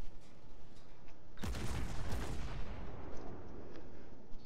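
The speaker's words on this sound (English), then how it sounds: "he's getting shot up on both sides now" Gunfire striking a ship in a naval combat game, a sudden heavy crackling burst of impacts that flares up and fades over a second or two above a low rumbling background.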